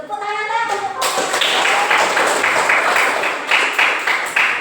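A classroom audience at a junior high school claps together after a group presentation, a dense run of hand claps with occasional louder taps, close and steady for several seconds without speech over it.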